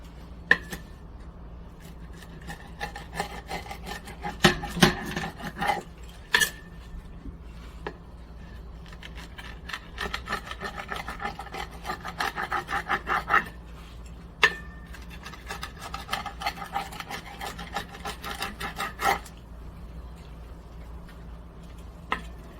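A metal spatula scrapes and taps under a barbecued prime rib pizza on a pizza stone, faint irregular clicks and scrapes spread through a quiet stretch.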